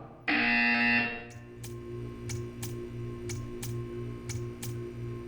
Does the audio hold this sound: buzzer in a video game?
yes